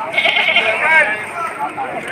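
A goat bleats at a livestock market in Padre Garcia, a wavering, nasal cry lasting about a second that rises over a noisy crowd with talk in the background.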